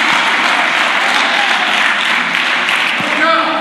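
Steady applause fills a church congregation during a sermon, dense and continuous clapping at close range with no break, a few voices faintly mixed in.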